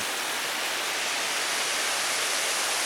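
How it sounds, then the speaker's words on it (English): A small waterfall along the Natchez Trace trickles and splashes in a constant bright hiss of running water, close and unbroken, with no voices. "you can't neglect the little trickling waterfall"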